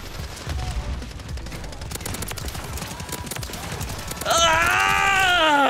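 Rapid bursts of akimbo WSP Swarm gunfire in the video game Call of Duty MW3, dense overlapping shots for several seconds, then a sustained tonal game sound effect with a voice heard briefly.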